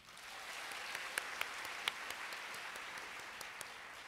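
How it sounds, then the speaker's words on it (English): A lecture-hall audience at a live science event claps hands together in a steady, fairly soft wash of applause with a few sharper individual claps standing out. "Just clap your hands."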